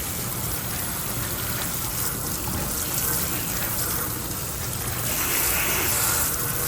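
Tepid tap water runs steadily over hair rods while a client is rinsed after neutralizer in a chemical relaxer or perm procedure, a continuous close splashing gush with no pauses.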